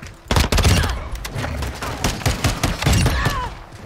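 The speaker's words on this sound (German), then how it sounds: "Hier kannst du super mit der Pistole arbeiten." Pistol in Call of Duty: Modern Warfare II multiplayer firing a fast series of sharp, loud, close shots in quick uneven bursts, with other gunfire and game sounds around.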